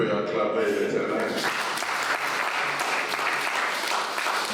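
A church congregation applauding and cheering in a hall, sustained clapping that fills the room, with voices mixed into the crowd noise.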